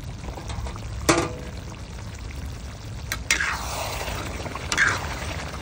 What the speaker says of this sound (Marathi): 10 मिनिटं याला आपण असंच उकळी घेऊन टाकूया।